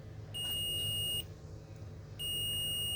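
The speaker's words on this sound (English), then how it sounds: "normally it will beep if the connection is fine like this" Two sustained high-pitched electronic beeps, each lasting about a second, sound over faint background noise: a multimeter's continuity tone while testing an AirPods Pro charging connection.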